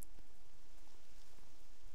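Steady rain falls in a role-playing video game, a soft continuous hiss with faint patters, moderately quiet and unbroken across the short stretch, with no voices.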